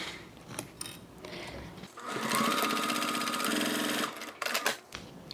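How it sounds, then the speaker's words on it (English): A sewing machine stitches lining onto the bottom of a handmade wallet, running in one steady, loud mechanical whir for about two seconds between quieter handling clicks. "We're sewing the lining onto the bottom."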